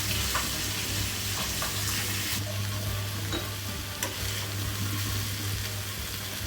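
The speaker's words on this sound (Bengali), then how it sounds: "টমেটো কুচি দিয়ে আমি এখন এটা আরেকটু নেড়ে চেড়ে সিদ্ধ করে নেব" Mixed vegetables with chopped tomato being stirred in a pan, a steady sizzle with soft scraping strokes and a constant low hum underneath, close and continuous without talk.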